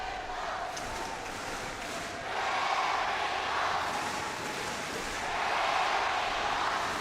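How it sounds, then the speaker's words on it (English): Korean and Indonesian fans roar in a packed arena at an Asian Games badminton final, a dense continuous crowd din swelling in two louder waves of cheering and chanting. "Just listen to the atmosphere being generated by the crowd. The Korean fans in full voice, but so are the Indonesians."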